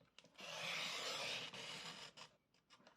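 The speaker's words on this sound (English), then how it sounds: "We'll trim that by hand, that last little bit." Paper for a Post-it note and pen holder trimmed by hand along a score line: a close, steady rasping scrape lasting about two seconds, then a few short scratchy strokes, with no talking.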